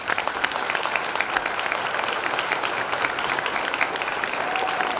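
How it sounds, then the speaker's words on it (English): Graduation audience applauding the teachers, a full, sustained round of clapping from a crowd, steady and fairly close throughout with a faint whistle near the end. "Let's give the teachers a round of applause, all of them."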